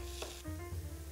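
Garlic and onion sautéing in hot oil for pansit habhab, giving a steady, close sizzle with a brief stirring scrape partway through and no talking.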